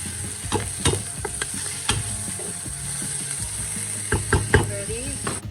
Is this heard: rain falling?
no